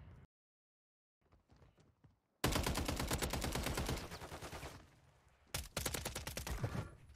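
Bursts of automatic gunfire in Call of Duty Modern Warfare 3 Warzone: a long, loud rattling volley follows a brief quiet stretch, then a second loud burst after a short pause.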